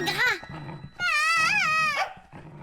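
A cartoon dog whimpers and growls in two bursts of wavering, high whining yelps with a softer rough growl between them, close and alone.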